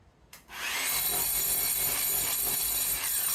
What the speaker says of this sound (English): here's the shot of him drilling the inside.